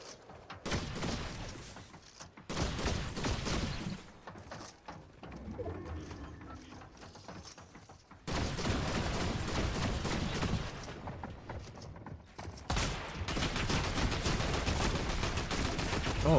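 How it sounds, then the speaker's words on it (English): Fortnite gunfire: repeated stretches of rapid shooting, loud and continuous, broken by short silent gaps, with game sound underneath. "He was just shooting and hope for the best."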